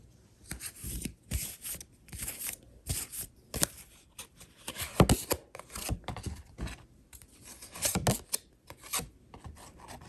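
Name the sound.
shuffling tarot cards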